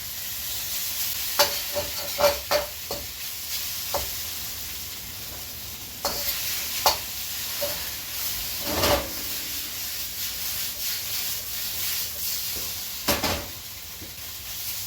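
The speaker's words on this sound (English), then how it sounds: "we're going to stir fry the shrimp in a single layer, just until they're pink and just about cooked through" Shrimp stir-fry in a single layer in a hot pan, a steady close sizzle punctuated by repeated spatula scrapes and clanks.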